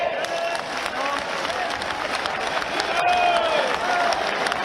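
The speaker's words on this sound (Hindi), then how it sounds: "यदि आपको अनुकूल हो चित्त ताली बजाइए" A large crowd at an outdoor Hindu religious gathering in Vrindavan breaks into sustained applause mixed with cheering and shouting voices, loud and dense throughout, swelling slightly toward the end.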